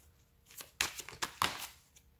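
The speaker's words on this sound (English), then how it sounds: "Let's see if I can get a good shuffle." A few crisp riffling bursts of tarot cards being shuffled, close and fairly quiet, with short papery snaps a fraction of a second apart.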